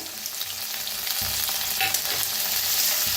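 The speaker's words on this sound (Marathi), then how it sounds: "मटरला भी भाजून घ्यायचं" Fresh peas roast in a hot pan with a constant close sizzle, broken by stirring scrapes and small crackles. Nobody talks.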